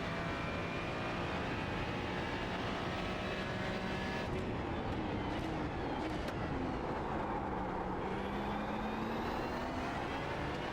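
A Ferrari GT3 race car engine in iRacing at Hockenheim, a steady droning engine note with audible pitch sweeps as it revs and shifts, fairly soft and continuous for the whole stretch with no voices.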